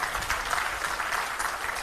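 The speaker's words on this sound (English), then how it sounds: "a huge round of applause for Ms. Maya Sharma." Audience at a book launch event applauding, a steady, even wash of clapping heard on its own for a couple of seconds, moderately distant.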